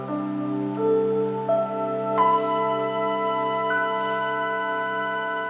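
A sustained synthetic tone stack where new notes enter one after another, each stepping upward by a fifth, steady and smooth with no voices.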